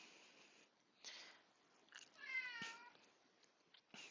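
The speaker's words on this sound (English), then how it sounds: "I apologize about my cat in the background." A cat indoors meows a few times in the background, with one clearer drawn-out meow in the middle, fairly faint and heard alone in a quiet room.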